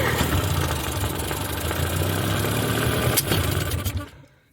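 A faulty outboard boat motor runs at a steady mid-pitched rumble with a slight uneven chug, close by, then cuts out abruptly near the end and drops to quiet.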